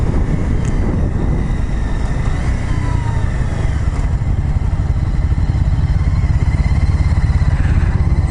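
A 2015 Honda CBR300R motorcycle being ridden, its engine a steady, loud, close droning hum with buzzy rattling texture that holds evenly throughout, with wind noise and no talk.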